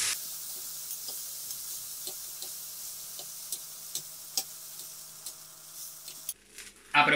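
Chicken pieces browning in a frying pan, a steady soft sizzle with faint scattered pops and occasional stirring clicks, ending with a louder clatter.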